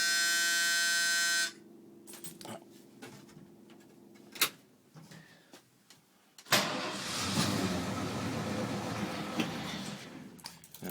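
A 1981 Ford F150 Custom Explorer is cold started with its choke set lean. A steady electronic buzzer sounds first and then cuts out, a few clicks follow, and the engine catches and settles into a loud, rough, continuous idle close by.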